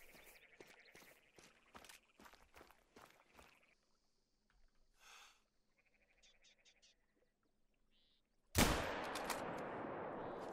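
A single sharp, loud hunting rifle shot in the video game theHunter: Call of the Wild cracks out after a stretch of quiet clicks and faint movement, its echo lingering afterward.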